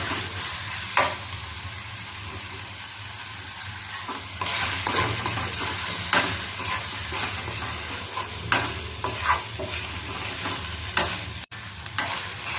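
Soya chunks with onions sautéed until soft, heating in a pan: a steady close sizzle with repeated scraping stirs and occasional clinks of the spoon against the pan, no voices.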